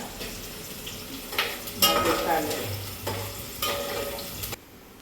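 Onion frying in a pan for masala rice is stirred in several scraping strokes over a steady close sizzle, with no talk.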